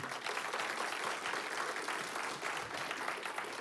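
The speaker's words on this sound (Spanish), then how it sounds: "Si le va a dar un aplauso, déselo" A church congregation applauds during a sermon: steady, dense clapping from many hands fills the room at an even level for the whole stretch, with no break.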